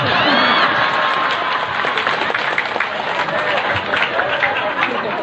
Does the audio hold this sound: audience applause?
yes